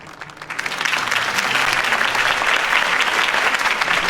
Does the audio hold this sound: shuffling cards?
no